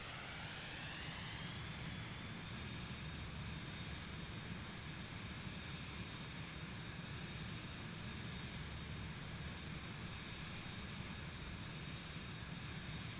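Overweight jet at maximum weight with full flaps taking off in Microsoft Flight Simulator: a constant loud engine roar and broadband rush holding steady throughout, with a rising whine near the start.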